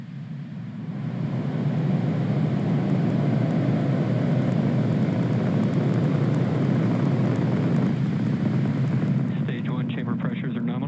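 SpaceX Falcon 9 rocket lifting off carrying Starlink satellites, a loud, steady, broad rumbling roar that swells in the first second and holds, with a voice talking over it.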